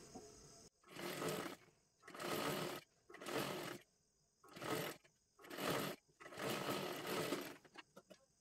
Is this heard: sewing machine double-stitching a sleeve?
yes